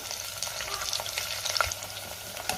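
Sliced onion with whole spices, bay leaves and curry leaves sautés in a pan for tomato pulao, making a steady close sizzle with small pops and crackles and occasional stirring, with no talk.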